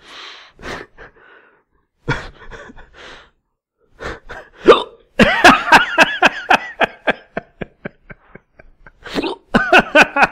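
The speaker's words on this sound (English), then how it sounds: "that's a fine time to get hiccups" Close, loud bursts of hiccup-like vocal spasms during a voice-recording session, starting as scattered gasps and then turning into a rapid run of about a dozen sharp, evenly spaced hiccups with a few more at the end.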